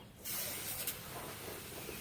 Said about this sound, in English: Just spray it with the plastic cleaner,